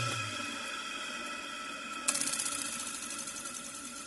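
A newly rewound electric motor, switched on through a magnetic contactor, spins with a steady mechanical whine and hum, and a single sharp click lands partway through.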